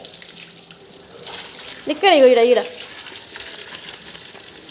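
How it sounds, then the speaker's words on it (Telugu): Tap water runs steadily at home as a constant close hiss, with a voice breaking in briefly partway through and a few faint clicks near the end. "అక్కడ నీళ్ళు పోతున్నాయి"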